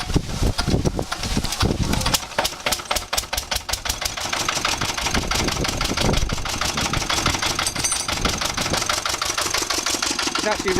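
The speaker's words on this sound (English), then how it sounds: "It's actually running out of fuel at the moment, that's why it's hard to start." An AVA1 engine running low on fuel chugs and putters unevenly in a workshop, loud and close with a rapid irregular firing rhythm that stumbles in places.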